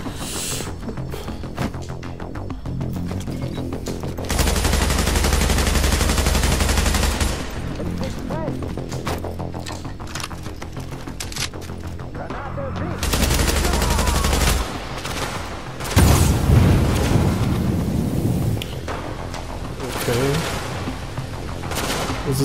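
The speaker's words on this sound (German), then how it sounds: "Das ist ein Geschütz oder was?" Gun turret fire and other weapons blast in repeated bursts of heavy automatic gunfire during a firefight in The Division, loud and close, with booming impacts and brief pauses between volleys.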